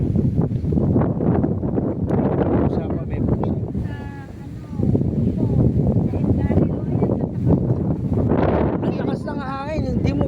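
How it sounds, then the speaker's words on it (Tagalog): Strong wind roars and buffets the microphone in steady gusts, with a brief lull midway and faint voices underneath. "makapagsindi ng kandila talaga kasi ano, ang lakas ng hangin"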